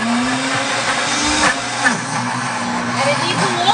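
A blender whirs steadily and loudly, its motor pitch wavering slightly as it churns peanuts into thick peanut butter.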